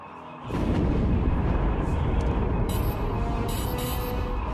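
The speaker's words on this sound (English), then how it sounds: "Enemy cannons up." Enemy capital ship cannons fire in a space battle in the video game SWTOR, starting with a sudden heavy blast that swells into a loud, sustained roaring rumble with crackling bursts near the end.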